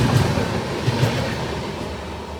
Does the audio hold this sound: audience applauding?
no